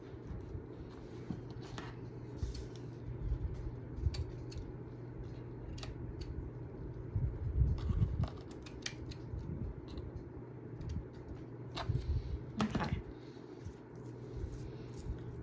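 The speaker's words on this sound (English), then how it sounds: "Cut some of this off." Scissors snipping through material for fall decorations, a few sharp cuts spread across a quiet room with a low background hum, close and fairly soft.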